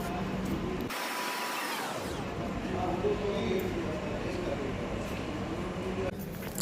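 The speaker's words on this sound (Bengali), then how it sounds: "এই এসে পৌঁছালো খড়গপুরে আমাদের ট্রেন" A train rumbles and grinds steadily as it pulls into Kharagpur station before dawn, with a broad mechanical roar, low hum, and a voice speaking over the noise.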